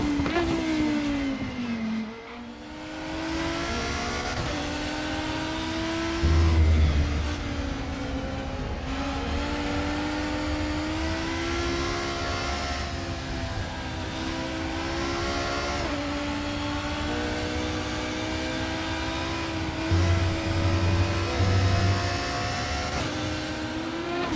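A Volvo five-cylinder Super Touring race car engine in the RaceRoom racing game, a raspy, steady high-revving drone that rises and falls with gear changes, loud and continuous with no talk.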